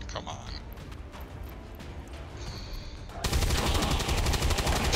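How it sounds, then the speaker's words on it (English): An XCOM 2 minigun lets loose a sustained, dense burst of rapid gunfire that erupts loudly after scattered shots and clatter, with a voice in the mix. "Minigun to the face."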